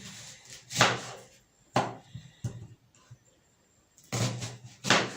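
A knife chops through a very hard onion on a kitchen board while a chicken and potato dish is being prepared: several sharp, close chops in an irregular rhythm with short pauses between them.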